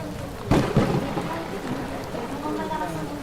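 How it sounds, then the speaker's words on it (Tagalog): Heavy rain pours down on a house in a steady, dense hiss, with two sharp thunder-like bursts early on before the downpour settles into a constant roar. "Mukhang malakas ang ulan."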